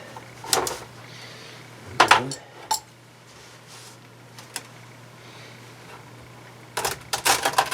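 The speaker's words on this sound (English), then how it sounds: "now I can take the clamp off" A clamp coming off the re-carpeted lower console of a 3rd-gen Camaro IROC-Z: scattered sharp clicks and metallic clanks in short bursts, separated by quiet gaps over a faint steady hum.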